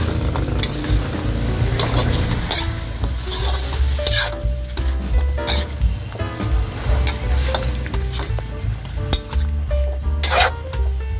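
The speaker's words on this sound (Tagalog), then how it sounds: "Ating halu-haluin." Pork cubes with fish sauce being stirred in a pot for a Filipino pork rib stew, a spoon scraping and clinking against metal over a steady sizzle, loud and close without talk.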